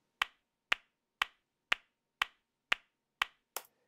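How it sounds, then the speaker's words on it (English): Recorded hand claps looped in a music track: eight sharp, identical claps in strict even rhythm, about two per second, dry and close with nothing else around them. "it's like two different claps looped over and over and over again"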